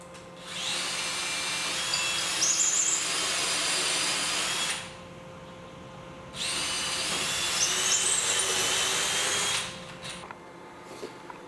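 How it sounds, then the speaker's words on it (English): A power drill pre-drills bolt holes for a ceiling-mounted pulley hoist for a rooftop cargo box, making two sustained whirring runs of about four and three seconds with a quiet pause between them. "Now I just need to pre-drill"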